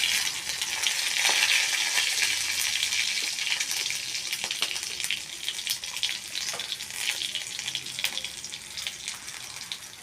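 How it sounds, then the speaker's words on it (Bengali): Chili and panch phoron sizzle and crackle in hot oil in a wok, a steady close frying hiss with scattered pops and occasional stirring scrapes, no voices. "এরপর আমি কড়াইতে তেল দিয়ে দিলাম, তার সাথে লঙ্কা এবং একটু পাঁচফোড়ন দিয়ে দিয়েছি।"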